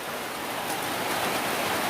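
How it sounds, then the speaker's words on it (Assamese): Rain pours down steadily during the rainy season over a rural home where paddy was drying, a dense, even hiss filling the scene without any voices. "একদম নিমিষতে আহিছে বৰষুণ।"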